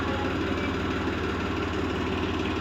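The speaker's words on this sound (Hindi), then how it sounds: "पर सबसे पहले हमें अपने दो एचएमटी ट्रैक्टरों को बुलाना होगा। आ जाओ एचएमटी ट्रैक्टर जल्दी से।" An HMT tractor engine running steadily at idle, a dense continuous low mechanical rumble with an even chugging texture, close and loud throughout with no pauses.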